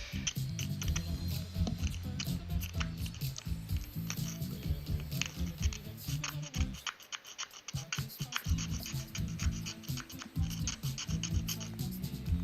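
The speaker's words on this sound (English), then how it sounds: "Let's see if I can sand it a bit." A 3D printed AT-ST diorama part is sanded by hand with a continuous, close, scratchy rasping of quick strokes, broken by a brief pause midway.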